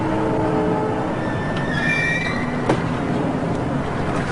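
A roller coaster train runs on a test track that has no chain lift, where the train is raised by crane. Its wheels give a loud continuous rumble with a high squeal rising partway through.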